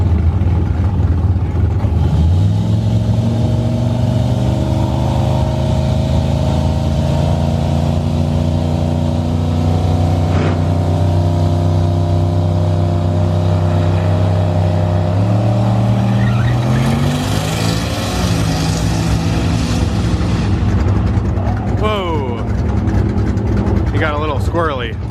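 Ryan's 6,000-pound car, a boxy go-kart-like build, runs loud on a race track with a steady engine drone that climbs in pitch through the gears, close and continuous.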